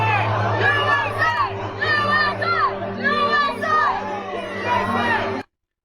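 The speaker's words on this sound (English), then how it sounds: "That guy right there started the USA chanting" A crowd at an outdoor Charlie Kirk event chants "USA" in a rhythmic, repeated cadence, several loud rising voiced bursts in a row over a steady low hum, ending abruptly.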